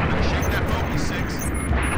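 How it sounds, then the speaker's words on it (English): Heavy gunfire aimed at an enemy craft in the Halo Reach video game, a loud continuous roar of shots and blasts, with a voice speaking over it. "gonna shoot that bogey, Six."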